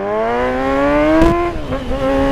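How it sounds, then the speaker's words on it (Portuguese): Kawasaki Z1000 motorcycle engine revving hard under acceleration, a loud close steady harmonic whine rising in pitch, with a brief dip and surge near the end. "0 a 100 a moto dispara"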